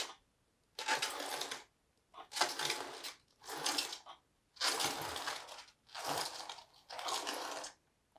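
A hand-cranked QuakeCaster earthquake model is turned steadily, giving about seven separate grinding, crunching bursts with short quiet gaps between them in an even rhythm.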